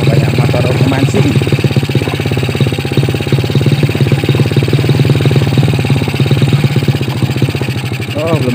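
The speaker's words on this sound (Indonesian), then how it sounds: "Oh, banyak motor pemancing." Fishermen's motorcycle engines idle and run with a steady, loud, close throbbing chug and some clatter, continuous throughout, with a voice heard faintly over it.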